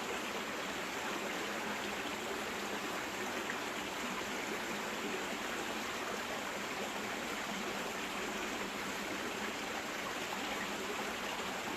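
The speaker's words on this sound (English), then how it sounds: "Can you hear that water, guys?" A stream flows through ancient woodland, its water babbling in a steady, even rush that stays constant throughout, moderately quiet and unaccompanied by voices.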